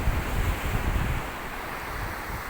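Pacific Ocean surf washing along a shoreline near a boulevard, a loud, continuous roar of breaking waves mixed with gusty wind buffeting the microphone, with no voices.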